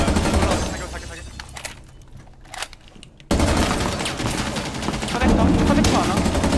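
Gunfire in a shooter video game, rapid bursts of shots fired up close, dropping away to a quieter stretch before a sudden return to loud sustained firing, with players talking over it.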